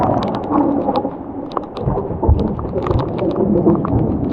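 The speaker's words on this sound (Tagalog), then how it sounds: "Mas malakas pala pakinggan yung kulog pag dito sa taas." Low thunder rumbles during a storm up on a mountain, a deep rolling roar under steady rain, with occasional clicks and taps on top and no talk.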